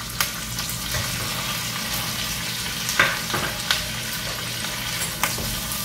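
One diced medium capsicum sizzling in a pan for chicken jalfrezi, with a steady close frying hiss and a few sharp stirring clicks, and no voices.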